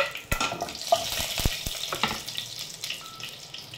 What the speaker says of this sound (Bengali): তেলটা গরম হয়ে গেছে। এখন আমি এর মধ্যে দিয়ে দেব কালো জিরে আর দিয়ে দেব শুকনো লঙ্কা